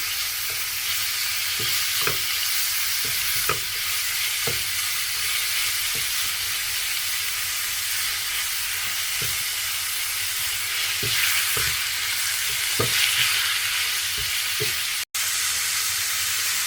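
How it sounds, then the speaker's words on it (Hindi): Chicken pieces sizzle in hot oil in a frying pan, a steady loud hiss broken by scattered crackles and occasional stirring scrapes, heard alone without voices. "जैसे ही ऑयल गर्म होगा तो इसमें चिकन डाल देंगे।"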